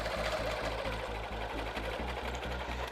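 A Handi Quilter sewing machine stitches straight down through quilt fabric strips with a fast, even mechanical chatter of regular needle strokes, close and steady throughout without any voices.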